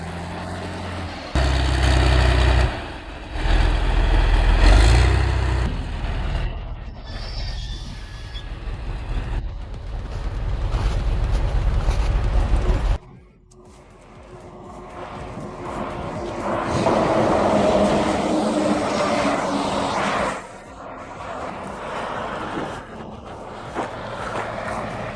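A diesel truck hauling a 50,000-liter tanker trailer across frozen swampland, a loud low engine drone that dips sharply midway, then builds again with rumbling road noise.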